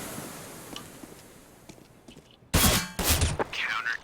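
Counter-Strike gunshots during a competitive match: a quiet stretch with faint distant clicks, then a sudden loud burst of close gunfire near the end, several sharp reports in quick succession.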